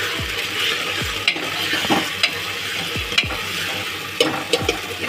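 Keema matar soya sizzles in a pan while being stirred, a steady close frying hiss broken by repeated scraping strokes of a spoon, with no talk.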